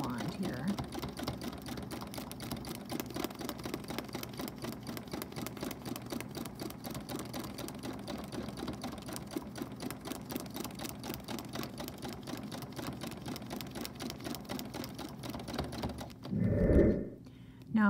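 A home sewing machine stitches bobbin work, running steady back-and-forth lines of rapid, even needle strokes that fill the outline, continuous and close before a brief louder burst near the end.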